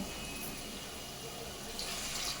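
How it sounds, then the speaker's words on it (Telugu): Water poured into a desi-style crab curry gravy in a pan: a quiet, steady, continuous pour with a light splashing hiss, and no talk. "ఇప్పుడు దీంట్లో మనం వాటర్ యాడ్ చేసుకుందాం"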